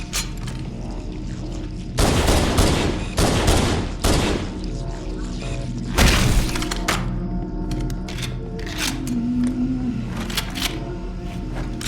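Shotgun blasts in Halo: Combat Evolved, a cluster of loud booming shots followed by another heavy blast and scattered lighter impacts and clicks over a humming game soundtrack.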